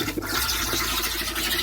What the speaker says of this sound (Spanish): vamos a abrir el agua caliente